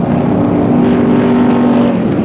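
A 1965 drag race car built from a 1923 Model T body on rails with a GMC engine roars close and loud, a steady, sustained engine drone with no break and no talk.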